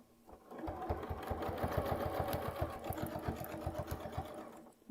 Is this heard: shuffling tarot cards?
no